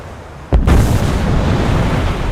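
A torpedo striking a ship in War Thunder, one sudden heavy explosion that hits hard and then rolls into a loud, sustained rumble lasting a couple of seconds.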